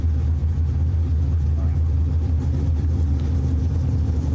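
A dragster engine idles and blips loudly while bumping into the stage beams at an old school bracket drag race, a steady heavy low rumble with no pauses and a commentator talking over it.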